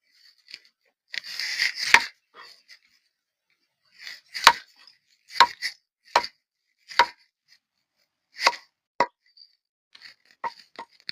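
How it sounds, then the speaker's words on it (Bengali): A knife chops bhetki fish into small pieces on a wooden cutting board, giving sharp, separate thwacks in an uneven rhythm, close and clear against an otherwise quiet room. "এবার আমি ভেটকি মাছটা কেটে নেব। এই মুকুটটার উপরে ফেলে ছোট ছোট টুকরো করে নেব।"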